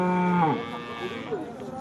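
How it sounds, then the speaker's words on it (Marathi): At a cattle market, a cow gives one loud, close, drawn-out moo that falls in pitch and fades, followed by quieter market background with a brief second low call. "रोहित चालत आपण कालवडी साईडला कालवडींचा बाजार आहे"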